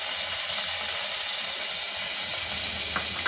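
Oil sizzling in a kadhai as it spreads across the hot pan, a bright, continuous hiss at close range, steady and unbroken, with a few faint ticks toward the end.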